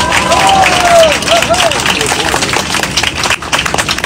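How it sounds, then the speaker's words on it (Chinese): Passengers aboard an EVA Air flight applauding the Paris Olympic team, clapping and crowd noise under a loud announcement voice. "请大家给予所有中华队的英雄们最热情的掌声"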